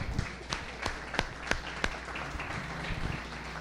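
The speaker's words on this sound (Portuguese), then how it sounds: "Vamos dar uma salva de palmas ao Senhor." A church congregation claps in praise to the Lord, a few loud scattered claps over a soft, steady patter of applause with a low hum underneath.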